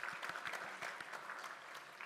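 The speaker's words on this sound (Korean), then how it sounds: "우리 환영의 박수 한번 쳐드리죠." A church congregation applauds in welcome during a Sunday service, a brief burst of steady, moderately distant clapping from many hands.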